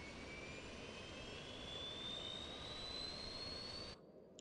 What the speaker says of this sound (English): which means the APU is starting up. And if we go outside, you can also hear the APU.